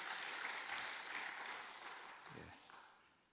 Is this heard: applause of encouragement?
yes